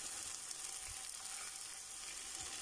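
Cauliflower and egg fry in a pan, giving a steady, dense sizzle and crackle throughout with no pauses. A couple of faint low knocks sound underneath, and no one speaks.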